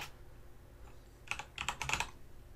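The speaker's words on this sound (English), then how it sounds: "So I'll type in keyword research software." Keyboard keys typed in a quick burst of clicks on a computer, starting after a quiet second and continuing to the end, close and moderately loud with no talk.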